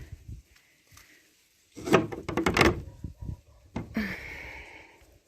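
A new wooden cellar door made of floorboards with fresh hinges and a handle is opened and shut, with creaking, scraping movement and knocks of the wood, fairly close and without talk.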